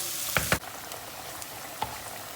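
Onions frying in hot oil in a pan for a zucchini dish, with a steady close sizzle and a few sharp crackles and spoon scrapes, no talking.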